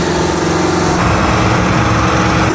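A John Deere 4066R compact tractor running a Normand hybrid snow blower with a stainless steel cutting edge roars steadily and loudly up close while clearing a driveway, an unbroken engine drone with no voices.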